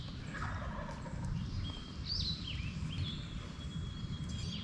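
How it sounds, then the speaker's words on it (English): A wild turkey gobbler gobbles at a distance during a spring hunt in Pennsylvania, giving a couple of rapid rattling gobbles over steady outdoor background noise, with no one speaking. "The gobbler's still where he was earlier. He's still going off."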